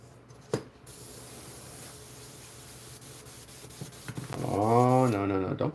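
An airbrush hisses in a steady, moderately loud spray while painting a Wolverine figure, with a few small clicks and rattles near the end.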